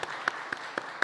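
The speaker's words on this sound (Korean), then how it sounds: "우리 한번 크게 한번 박수 한번 해주셨으면 좋겠습니다." A church congregation at a Wednesday service gives a short burst of applause, a few separate claps that ring out quietly with faint voices behind.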